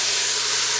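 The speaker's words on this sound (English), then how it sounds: "You can always drop a little bit of water on there to see if it sizzles" Water sizzles on a hot cooking pan, a steady hissing spray of steam that fills the whole short moment, loud and close with no voices.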